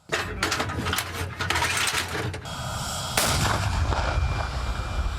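Loud booming blasts from a captured Russian T-80 tank firing at enemy positions in Kharkiv region, a heavy report near the start followed by another sharp blast about midway, with rumbling noise throughout.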